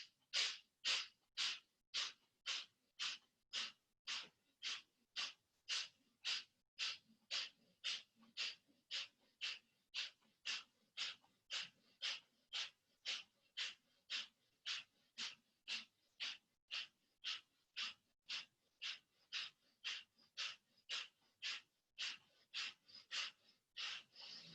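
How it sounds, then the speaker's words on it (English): Kapalabhati yoga breathing comes as a long run of sharp, forceful nasal exhalations at a quick, even rhythm, about one and a half per second, close and alone with no talk. "I'm going to just breathe again in Kapalabhati for another 30 seconds"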